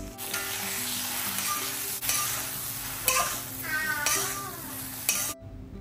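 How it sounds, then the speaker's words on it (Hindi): Eggplant frying in mustard oil in a wok with salt and turmeric, a steady close sizzle with stirring scrapes throughout, ending abruptly. "फिर ये बैंगन उसमें ऐड कर दिया, फिर नमक और हल्दी, उसके साथ इसको थोड़ी देर फ्राई करना है"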